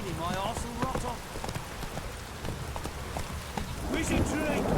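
Heavy rain in The Witcher 3: Wild Hunt, a steady hissing downpour running throughout, with hoof clip-clops and voices talking over it, growing slightly louder toward the end.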